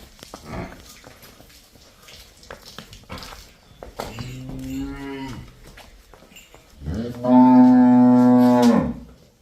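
Buffaloes and cows at a dairy farm moo loudly and close by, a shorter low bellow followed by a longer, stronger one, with scattered shuffling and movement noise between calls.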